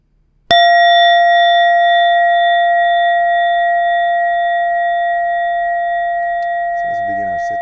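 Meditation bell struck once, a clear pure ring that sustains and slowly fades over several seconds, loud and close, with a brief soft voice entering near the end.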